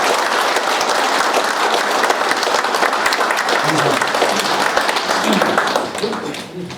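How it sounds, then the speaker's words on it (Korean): A crowd at the founding ceremony of a local chapter applauds loudly for a chapter head, dense sustained clapping with a few voices and cheers mixed in, tapering off at the end. "이정남 지부장님을 위해서 다 같이 박수 한번 크게 해주십시오."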